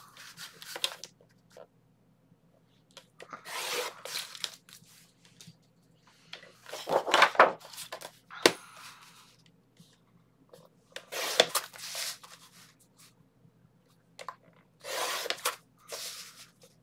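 Scissors cut apart printed paper ephemera cards, giving bursts of crisp snipping and paper rustling separated by quiet pauses, close and fairly soft.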